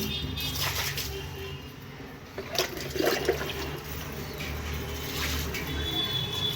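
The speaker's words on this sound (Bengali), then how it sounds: "এই যে এবারে জল দিয়ে জায়গাটা ধুয়ে নেব" Water splashes and pours across a floor being rinsed at home, a steady wash with a brief louder surge midway, continuing without speech.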